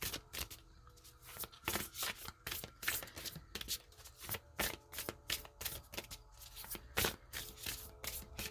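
Oracle cards shuffled by hand in a quick, continuous rhythm of riffling and rubbing strokes, close and fairly quiet, with no talking.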